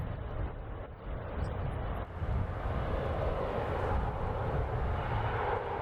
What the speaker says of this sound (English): Versus this lovely loud Embraer with United.